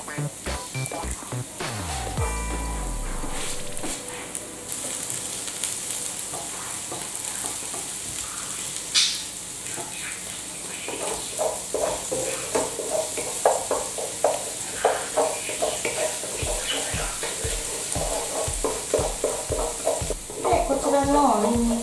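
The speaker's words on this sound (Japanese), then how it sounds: "生姜とニンニクのみじん切りを炒めます。" Minced ginger and garlic sizzle steadily in a pan for chicken curry, with repeated stirring scrapes and clatter of a utensil throughout, close and fairly loud, with no talking.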